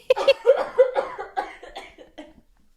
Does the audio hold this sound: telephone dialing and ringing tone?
no